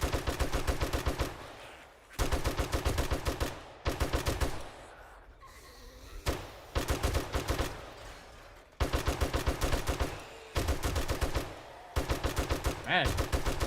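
Gunfire in the survival video game 7 Days to Die: repeated bursts of rapid automatic shots, each lasting one to two seconds, separated by short pauses, loud and close, with no voice over them.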